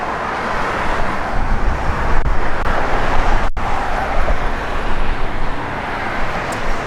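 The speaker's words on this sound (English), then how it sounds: "It's got good sounding Flowmaster dual exhaust." A 1967 Chevrolet Nova with Flowmaster dual exhaust rumbles steadily at close range, a broad low engine drone running the whole stretch with one brief dropout midway and no talking.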